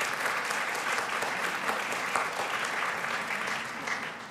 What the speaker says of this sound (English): I think we owe him a round of applause for this event